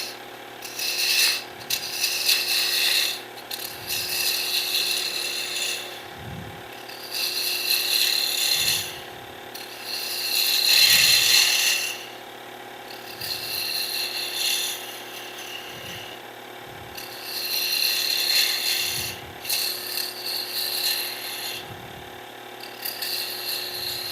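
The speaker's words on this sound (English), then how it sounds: "Now we're going to start forming the sphere. And I'm using a detailed spindle gouge for this." A detail spindle gouge shapes a wooden hollow-sphere Christmas ornament on a lathe, giving a steady, close hiss of cutting in repeated passes, with low thumps at regular intervals underneath.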